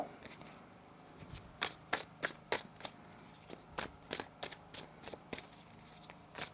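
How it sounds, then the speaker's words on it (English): A tarot deck is shuffled by hand, a run of quick crisp riffles and snaps in bursts, close and fairly quiet, with no talk. "One more shuffle."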